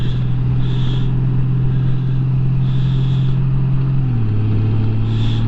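A Honda Gold Wing DCT touring motorcycle cruises in Tour mode with the throttle shut, its engine a loud steady drone that drops in pitch as it shifts up. Wind roar stays constant and rises in brief swells.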